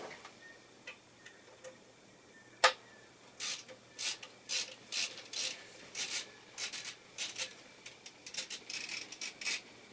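Metal clicks and ratcheting ticks from a flathead screwdriver working on server hardware come in irregular bursts after a sharp snap, close and fairly quiet, with no talking.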